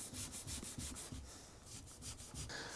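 Rust is scrubbed off the top of an old vise that sat out in months of rain, a close, steady abrasive rubbing in quick rhythmic back-and-forth strokes with no voices.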